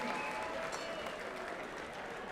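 A crowd at a kickboxing event applauds and cheers steadily, a broad wash of clapping with scattered shouts throughout, fairly loud and continuous.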